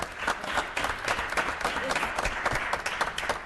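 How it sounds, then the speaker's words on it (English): At a parks and recreation commission meeting, the room breaks into a round of applause: a crowd of hands clapping briskly and continuously, close and fairly loud, with a faint murmur beneath. "I think Melinda deserves a round of applause for the great job that she's done"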